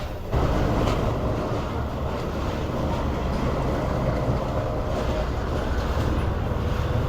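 A train at Rawalpindi railway station, a dense continuous rumble and clatter of rolling coaches that holds steady and close throughout, with no break in the noise.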